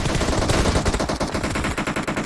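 Rapid automatic gunfire in the video game PUBG Mobile, during close-quarter combat in a custom-room scrim, rattles off in dense, loud bursts of closely spaced shots for the whole stretch.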